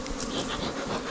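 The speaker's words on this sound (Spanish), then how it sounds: "observen nomás qué bravas están ahorita las abejas aquí" Agitated honeybees at an opened hive during honey harvesting with smoke, a dense, close, continuous buzzing swarm with no voices.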